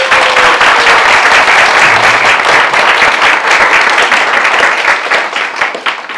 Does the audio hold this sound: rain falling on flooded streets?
no